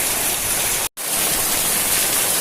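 Night rain falling in a house courtyard in Ratnagiri, a loud, dense, steady hiss broken by one abrupt moment of silence.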